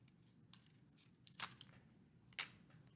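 Scissors snip through the round corners of recycled boards in a quiet room, producing a few sharp, irregular cutting clicks and scrapes at close range, with no speech.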